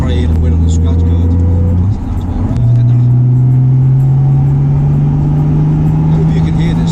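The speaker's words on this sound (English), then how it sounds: "I hope you can hear this supercharger" A supercharged car engine drones steadily from inside the cabin on an open road, a loud low hum that dips briefly and then settles into a rising, sustained whine.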